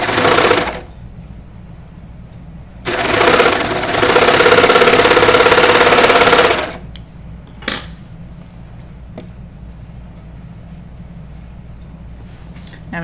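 A sewing machine runs up the side seams of a knit T-shirt in two close, loud bursts, a short one and then a longer steady run, followed by quieter handling clicks.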